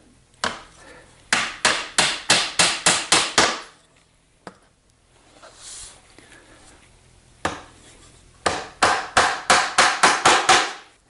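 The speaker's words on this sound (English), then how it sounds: "I'll just tack the pattern temporarily to another piece of material" Two quick runs of sharp, evenly spaced magnetic tack hammer taps, about eight each, tacking a pattern to MDF, separated by a quieter pause with faint shuffling.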